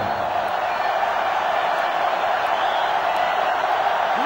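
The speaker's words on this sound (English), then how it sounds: "This sellout crowd is really making a difference now as these guys can't even call the play" Steady roar of a sellout stadium crowd in an American football video game, a continuous dense hiss of massed voices holding at an even, loud level without a break.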